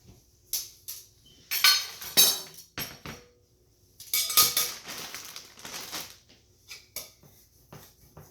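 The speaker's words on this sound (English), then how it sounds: "Now the cheese, I have to grate it" Cheese scraped over a metal grater in a kitchen in short rasping bursts, with clinks and knocks of the grater and dishes between strokes, close and fairly loud.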